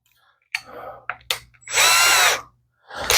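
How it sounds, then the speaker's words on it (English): A power drill spins a sandpaper cartridge for porting and polishing during Miata motor mount work, starting with short clicks and bursts, then a loud sustained whirring run of about a second before cutting off and restarting. "Just gonna use it on a drill, sure."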